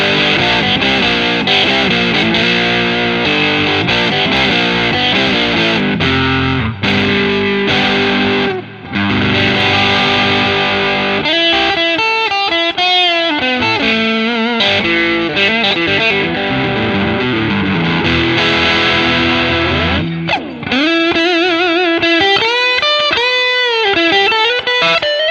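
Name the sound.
Schecter C-1 Exotic Spalted electric guitar, both pickups, distortion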